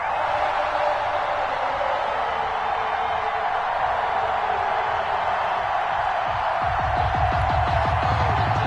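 A stadium crowd in an NFL video game on PS4 roars steadily before kickoff against the Atlanta Falcons, a dense, sustained wash of cheering that swells slightly near the end.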